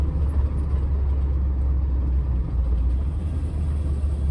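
A Ford F100 pickup fitted with Crown Victoria suspension rumbles through a turn, its engine and road noise a steady, close, low drone without talk.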